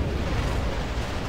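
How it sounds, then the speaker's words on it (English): A large explosion in the Republic Commando video game gives a loud, dense rumble that fills the whole moment without a break, heavy and booming in the low end. "That was a much bigger explosion than I thought it was gonna be."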